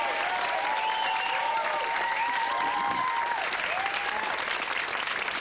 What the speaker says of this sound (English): Give them both, Marcus and Hannah, a big round of applause